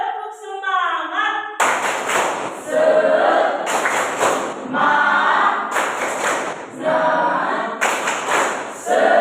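A vocational school class at SMK Widya Bhakti Ruteng performs the tepuk semangat, loud patterned bursts of unison clapping alternating with the group's chanting voices in a repeating rhythm.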